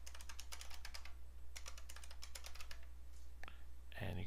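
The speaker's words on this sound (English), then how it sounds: "You type in the privacy password here as well." A password being typed on a computer keyboard in a network performance management setup screen, heard as bursts of quick, close key clicks with short pauses between runs.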